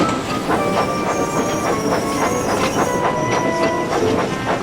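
A train of dirty coal trucks in the TRS19 railway simulator rolls along the rails with steady rhythmic clickety-clack, loud and close, over a constant hissing rumble with faint wheel squeal.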